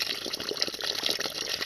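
Water gushing into a container to dissolve a homemade herbicide for onion weeds, a short steady pour up close with no one talking.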